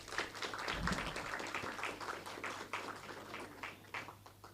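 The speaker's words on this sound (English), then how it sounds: "So give the University of the West Indies a big round of applause." Applause from an orientation audience of regional and international students at the University of the West Indies, Mona, in 2023, a steady broadband patter of many hands lasting throughout with a few sharper claps, moderately distant.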